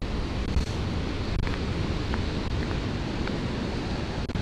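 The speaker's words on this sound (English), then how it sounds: "that's a problem when you have 25, 30 mile an hour wind gusts" Strong 25 to 30 mph wind gusts buffeting a beach, a constant broadband roar with occasional thumps against the microphone, fairly quiet overall and with no talking.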